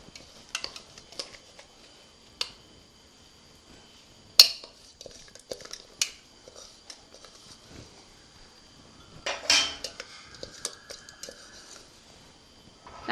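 Ground coconut being moved into a bowl brings sparse, light clinks and taps of dishes and utensils, quiet and irregular, with a few sharper knocks standing out.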